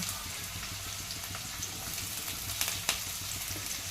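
Green chillies, onion and carrot frying in hot oil for homemade egg rice, giving a steady soft sizzle with a few sharper pops and crackles near the end, close and without talk.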